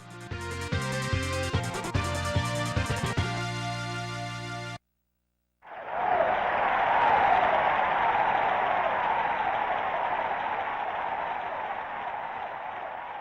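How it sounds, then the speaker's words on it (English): A crowd cheers in the ending of the Super Nintendo game Teenage Mutant Ninja Turtles: Turtles in Time. Chiptune music plays first, then cuts out, and a sustained, even wash of synthesized cheering rises and holds to the end. "The heroes return the Statue of Liberty to its proper location as the crowd cheers them on."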